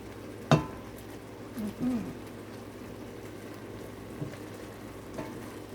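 Sorrel jam with sugar simmering and cooking down in a pot, a low steady bubbling and faint sizzle with a sharp clank at the start and a few soft stirring bumps.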